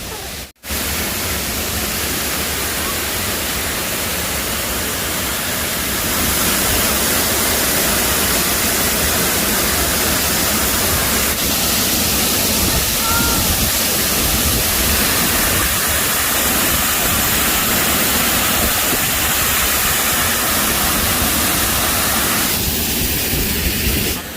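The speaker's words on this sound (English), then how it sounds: "these waterfalls are really rushing" A loud, dense roar of rushing waterfalls along the Hana Highway fills the whole stretch, steady and unbroken, with a brief thump at the very start.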